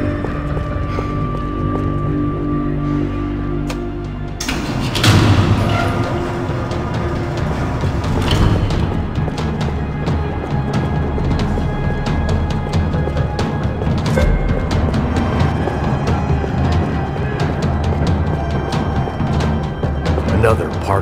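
Gunfire in the third-person shooter Max Payne 3 during a parking lot shootout: dense, rattling bursts of shots run steadily over a sustained game score, starting abruptly after a few seconds of quieter music.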